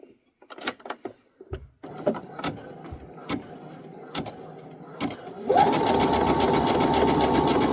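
A sewing machine zigzag stitches pieces of quilt batting together: a few scattered clicks and short bursts of handling, then the motor starts and runs loud and steady to the end.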